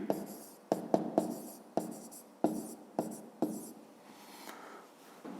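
Pen writing out a fifth-grade math exercise solution on paper, a soft continuous scratching broken by sharp taps and strokes as numbers are formed, close and alone.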